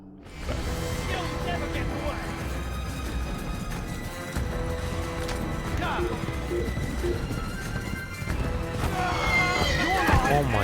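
A horse neighs and whinnies with clip-clopping hooves in the Assassin's Creed video game, heard under steady game background noise and a voice talking through most of the stretch.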